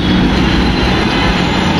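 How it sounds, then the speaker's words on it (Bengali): Dhaka metro rail train near Secretariat station, a loud continuous rumbling roar of the moving train with steady broadband noise and no talk. "সচিবালয়ের সামনে দিয়ে আমি মেট্রো রেলে আজকে যাব"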